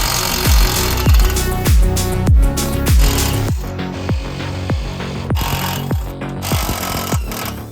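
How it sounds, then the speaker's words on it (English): An impact wrench hammers car seat bolts loose in a string of sharp, loud, rattling bursts, each a second or less, repeated close by with short pauses between them. "Bolts off with the impact."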